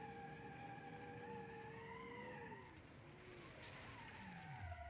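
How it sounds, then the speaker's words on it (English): Car wheels spin and tires skid in a racing video game while building a 1975 4-door GT, a steady engine whine and squealing tires running loud and continuous, dipping briefly before a rising screech. "We definitely have to do something about about all of this wheel spin."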